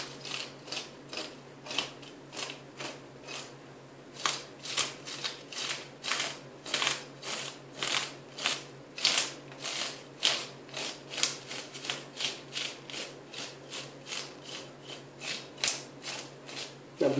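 Scales being scraped off a large lake white fish over 2 kg with a fish scaler, a rapid series of crisp rasping strokes repeating steadily at close range, with no talk.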